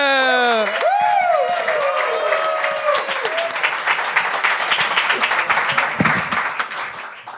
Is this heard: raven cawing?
no